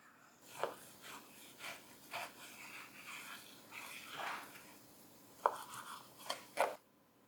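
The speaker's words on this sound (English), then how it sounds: "Now I'm cutting the meat into smaller pieces so I can later put them through" A knife cuts meat into smaller pieces for Nürnberger bratwurst on a board: quiet, irregular cutting strokes and soft taps, with a few sharper knocks near the end.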